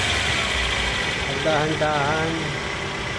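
Toyota Corolla Bigbody engine idling with a slight misfire, hood open in a repair shop; a steady, close low rumble runs throughout beneath a man's speech.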